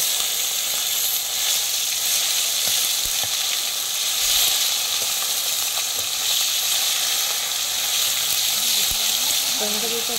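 Tomatoes frying in hot oil with cumin for an egg curry, a loud, steady, close sizzle that fills the whole stretch, with a few faint clicks of stirring.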